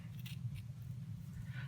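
Scissors cutting through the rows of a synthetic wig, a few faint, soft snips and scrapes close by in a quiet room with a low hum.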